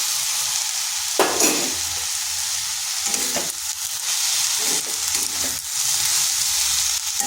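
Potatoes sizzle steadily in hot oil in a pan while being stirred for a sajna shak recipe, a constant hiss broken by periodic scraping stir strokes, close up with no talk.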